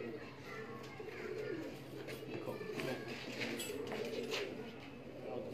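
Black pigeons in cages coo softly in low repeated calls, with clicks and rustling around them under a steady room hum.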